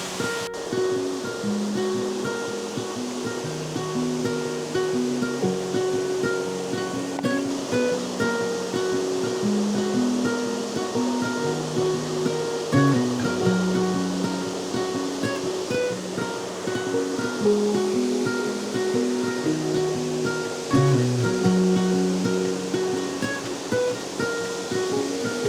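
Steady rushing water from a mountain waterfall in the autumn Pyrenees fills the scene continuously, loud and close, with faint tonal sounds underneath and no talk.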